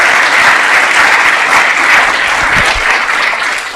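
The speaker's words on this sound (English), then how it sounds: "I would say that's worthy of another applause right there." Sustained, loud applause from an audience filling a city council chamber, dense steady clapping that carries on without a break and begins to ease toward the end.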